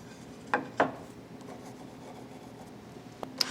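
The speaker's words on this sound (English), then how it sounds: "On the miter saw, I'm going to start by marking both ends of my board." A pencil marks both ends of a wooden board at a miter saw, giving two short scratchy strokes close together near the start, then a quiet stretch ending in a faint tap.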